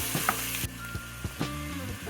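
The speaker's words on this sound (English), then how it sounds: "just brown it. Small little pieces until everything's browned all the way through." Crumbled sausage meat browns in a hot pan for a creamy sausage soup, crackling with a loud, even sizzle broken by a few sharp spatula scrapes and taps as the pieces are pushed around.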